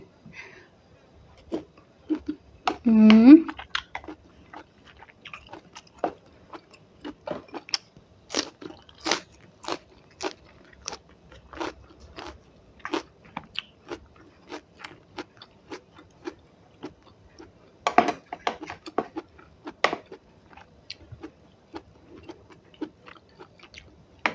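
Crisp crunching bites of green papaya salad with bitter melon repeat up close in an irregular rhythm, with a brief vocal sound early on and quiet pauses between chews.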